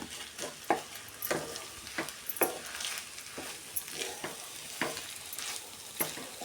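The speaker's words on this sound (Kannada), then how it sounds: "ನೋಡಿ ಈ ಥರ ಚೆನ್ನಾಗಿ ಮಿಕ್ಸ್ ಮಾಡ್ಕೊಬೇಕು ಈ ಥರ" Mint pudina rice being stirred in a frying pan, with repeated scraping strokes and a soft sizzle at an uneven rhythm, close and fairly quiet, with no talking.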